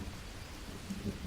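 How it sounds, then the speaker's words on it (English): Thunder rumbles low and steady in the Green Hell jungle survival game, a faint continuous roll mixed with falling rain and no talk. "Oh, thunder."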